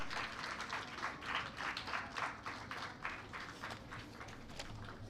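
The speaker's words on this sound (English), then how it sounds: "please welcome him with a big round of applause" Audience applause at a learning and neuroscience summit as a guest is welcomed onto the dais: steady, moderately distant clapping with a loose rhythmic pulse, continuing evenly throughout with no talk.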